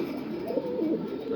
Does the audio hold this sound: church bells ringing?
no